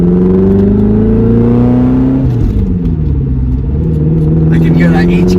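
A 1997 Lotus Esprit V8 twin turbo with an HKS exhaust idles and revs up loudly nearby, a steady deep drone with rising and falling engine notes, while people talk over it.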